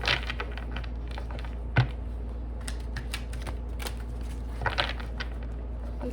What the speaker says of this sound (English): cards are such a pain in the butt to shuffle